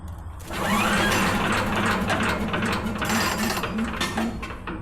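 A Champion chipper shredder engine is yanked by its pull-start cord without catching, a close rattling, ratcheting mechanical whir that swells after a short pause and rolls on for several seconds.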